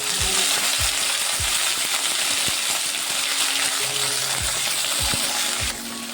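Dried red chilies, cinnamon pieces and bay leaves dropped into hot oil for a Bengali katla fish kalia, sizzling and crackling steadily and loudly up close, with a few soft clinks of a utensil and no voices.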